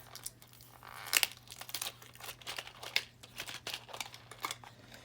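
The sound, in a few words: peeling tape off toy packaging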